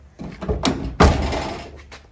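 A single heavy car door thunk lands near the middle, preceded by some shuffling and light handling noises.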